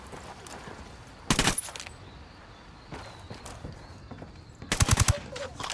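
Gunfire in Tom Clancy's Ghost Recon Wildlands: two loud, close bursts of rapid automatic shots a few seconds apart, with quieter scattered shots and movement between them.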